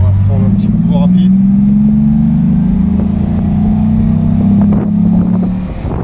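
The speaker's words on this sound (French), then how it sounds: "Plus on monte dans le régime, plus le moteur s'exprime." Six-cylinder engine of a Mercedes 280 SL with manual gearbox droning at steady revs on an expressway, a loud continuous in-cabin hum with wind rush and someone talking over it.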